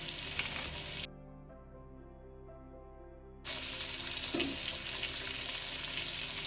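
Chopped yellow onions hit a hot pan with a loud sizzle that cuts out abruptly for a couple of seconds, then returns as a steady fry.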